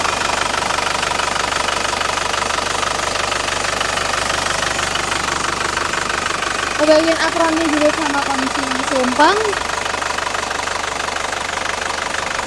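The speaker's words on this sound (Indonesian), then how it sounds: "Dan ini mesin kondisinya sehat, jadi siap dipakai juga." An Isuzu Panther Grand Touring turbo diesel engine idles steadily with a rough, knocking rattle, heard close beneath someone talking throughout.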